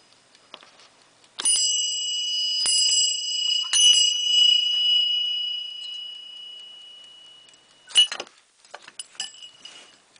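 Several bells from a home bell collection, including a larger bell, ring out in bright, sustained peals with a few separate strikes. The tones linger and decay, then quieter clinks and taps follow near the end.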